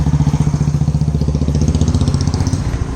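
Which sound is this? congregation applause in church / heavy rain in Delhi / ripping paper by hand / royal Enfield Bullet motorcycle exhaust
royal Enfield Bullet motorcycle exhaust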